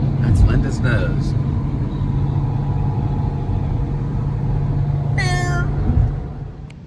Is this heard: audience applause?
no